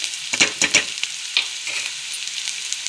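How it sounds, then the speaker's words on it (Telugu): Onions frying in a pan while being stirred, a soft steady sizzle broken by several quick scraping stir strokes early on, close and alone without talk. "ఇది మంచిగా ఫ్రై చేసుకుందాం. ఆనియన్స్ ఫ్రై అయ్యాయి కదా"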